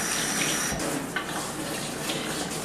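A handheld sprayer runs water steadily into a sink for a cat bath, a close, continuous hiss of spray with a brief dip partway through.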